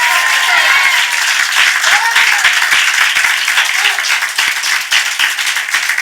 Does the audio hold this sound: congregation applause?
yes